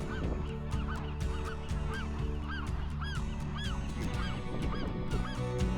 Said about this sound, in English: I can see the island alive with birds